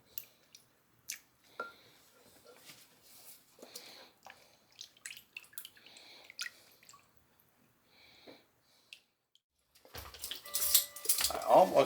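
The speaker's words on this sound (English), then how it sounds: "Let's get our whisk out and get that all mixed up." A whisk mixes a sauce for honey garlic chicken in a bowl, making quick, irregular clinks and taps against the sides, followed by a louder burst of rustling clatter at the end.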